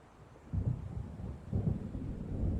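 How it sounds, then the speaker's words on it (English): Low thunder from an approaching storm in the video game Alan Wake Remastered rolls in two deep rumbling swells, steady and moderately loud, with a faint wash of rain and no voices. "It seems there's a storm coming."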